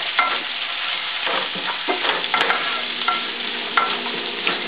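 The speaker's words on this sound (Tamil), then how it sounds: "பச்சை மிளகாவை அதில் ஆட் பண்ணுவோம்" Chopped green chilies sizzle in hot oil in a pan for mutton sukka while a spoon stirs them, with a steady crackling fry and repeated scraping strokes up close.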